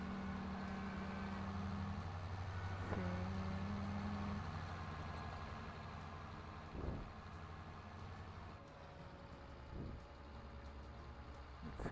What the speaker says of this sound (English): Oh, my tractor is very slow.